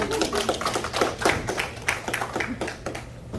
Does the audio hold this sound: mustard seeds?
no